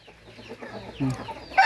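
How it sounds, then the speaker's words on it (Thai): Fighting cocks kept in pens at a Thai roadside stall cluck and call in short, scattered bursts at close range, ending in a sharper, louder cry. "เยอะมากนะครับ ไก่ชนเยอะมากนี่"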